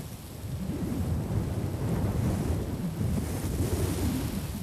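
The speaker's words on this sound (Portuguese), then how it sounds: "O árido vento do deserto sopra durante todo o dia." Steady desert wind blowing across open ground, a continuous loud rumbling roar with gusty swells and no other sounds.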